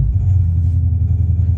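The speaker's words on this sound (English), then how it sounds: "the only one that's taken is by like a really loud car" A loud car engine rumbles steadily in a garage below an apartment, a deep low idle running continuously and close.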